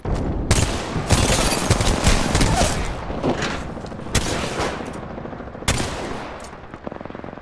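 Repeated bursts of automatic gunfire from the Apex Legends video game, loud and close, with rapid rattling volleys separated by brief pauses and a sharp shot near the end.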